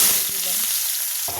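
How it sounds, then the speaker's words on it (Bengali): Onion with ginger and garlic paste sizzles in a hot pan after eggs were fried, a bright steady hiss with a faint stir, no talking. "আদা বাটা রসুন বাটা ভেজে নিচ্ছি পেঁয়াজের সাথে"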